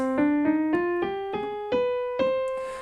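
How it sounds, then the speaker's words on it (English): A piano steps up a C harmonic minor scale note by note, evenly paced, with the final note left to sustain and fade. "what we're going to be playing here is called the harmonic minor scale"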